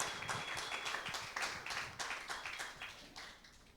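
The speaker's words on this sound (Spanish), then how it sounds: "Denle un aplauso." A church congregation claps for a Bible study on Ezra, giving steady, fairly rhythmic rounds of hand claps that sound soft and somewhat distant before gradually fading.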